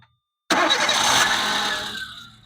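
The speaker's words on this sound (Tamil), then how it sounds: "வெஹிக்கிள் ஸ்டார்ட் பண்ணிட்டோம்." A car engine cranks and fires up abruptly after a brief silence, then settles into a loud, close idle that gradually fades.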